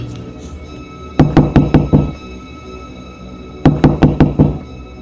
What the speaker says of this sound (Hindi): तभी गेट पे खटखटाने की आवाज़ आती है।